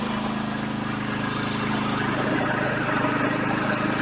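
A Bertolini rear tine tiller's small engine runs steadily at full power, a loud, continuous mid-pitched drone close by with no talking over it.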